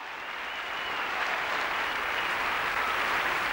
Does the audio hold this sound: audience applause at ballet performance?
yes